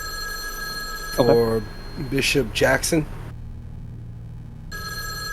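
A telephone rings in short tonal bursts, mixed in with a voice speaking nearby, then the line falls quiet apart from a faint hum.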